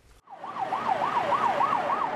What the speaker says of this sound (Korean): 사이렌을 울리며 달리는 긴급 차량